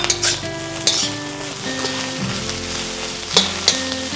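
Spam fried rice with egg stir-fried in a very hot wok, with a loud continuous sizzle and a few sharp scrapes and clinks of the spatula against the metal, close up with no voices.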